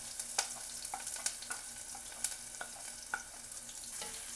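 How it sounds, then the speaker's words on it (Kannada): Onions fry in hot oil in a heavy-bottomed pot, a constant soft sizzle broken by scattered clicks and scrapes of stirring, with no voices present. "ಈರುಳ್ಳಿಯನ್ನು ಹೊಂಬಣ್ಣ ಬರುವವರೆಗೆ ಹುರಿದುಕೊಳ್ಳೋಣ."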